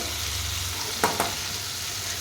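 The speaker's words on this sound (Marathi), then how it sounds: "म्हणून आता मी थोडंसं मिक्स करून घेत आहे तेलामध्ये एक दोन मिनटं परतवून घेऊया" Bitter gourd with spices and salt sautés in oil, giving a continuous close sizzle, with two quick spatula scrapes near the middle.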